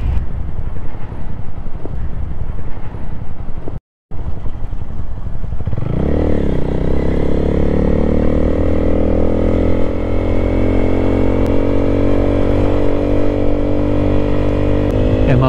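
A Honda Grom motorcycle engine revs up and holds a steady drone while riding, loud and close, with wind rush and road noise around it.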